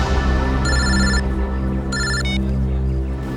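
A telephone ringtone rings twice in short bursts of electronic tones over a steady low hum indoors, with a brief extra chirp after the second ring.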